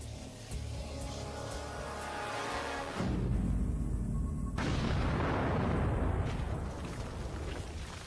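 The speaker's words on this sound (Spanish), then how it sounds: "Es una explosión masiva que crea una columna de escombros" A deep, rumbling blast from a massive crater-forming explosion roars up and holds as a heavy, broadband roar before slowly easing off, with no voices.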